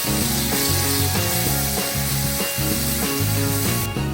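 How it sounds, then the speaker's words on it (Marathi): Green ground masala paste cooks in hot oil over a low flame for a prawn masala, giving a close, steady sizzle broken by regular rhythmic stirring knocks and scrapes, with no voices. "हे वाटण तेलामध्ये शिजवून घेऊया।"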